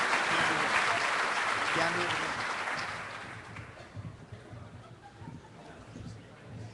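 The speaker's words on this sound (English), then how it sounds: "Thank you very much for the applause." Loud applause from an audience at an EMS awards dinner, strong at first and then tapering off to scattered claps, with a voice speaking over it.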